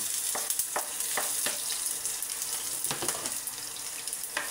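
Garlic and onion fry in a pan for a pork liver steak, giving a continuous crackling sizzle punctuated by a few quick stirring scrapes.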